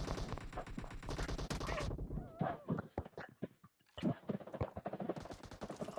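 Rapid automatic gunfire from the mobile game PUBG Mobile in team deathmatch, dense bursts at first, then a sparser run of scattered shots, a short gap and a renewed burst, loud and close.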